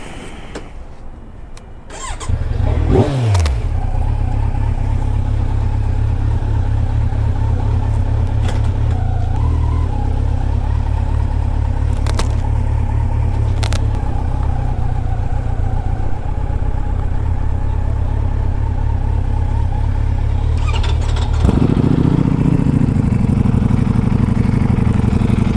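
A Kawasaki Z900 motorcycle engine held at high revs during a flat-out top-speed run to 246 km/h, a loud, steady, unbroken roar with a sharp rise near the start and a shift in pitch near the end, with no talk.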